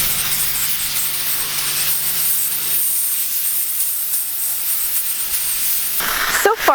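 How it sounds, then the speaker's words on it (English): A steamer hisses steadily and close while softening old clear bra paint protection film on the front of a Ferrari, a broad continuous spray that runs unbroken before shifting near the end. "So we're gonna take that off right now with some steam."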